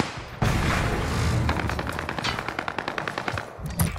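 Rapid bursts of automatic gunfire from an online shooter game, with a steady rattle of close, punchy shots and a few heavier thumps, no voices over it.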